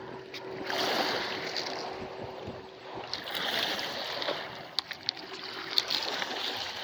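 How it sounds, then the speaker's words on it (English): Soft water sloshing in slow waves, rising and falling gently with faint knocks and a light breeze in the background. "just listen to, like, the water just going, you know, walk back and forth"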